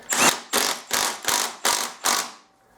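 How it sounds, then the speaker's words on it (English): A torque gun set low tightens the crank nut on a 160cc Chinese pit bike engine, giving six sharp, rapid rattling bursts in quick succession, close and fairly loud, with no talk. "The easiest way to do it again is with our torque gun."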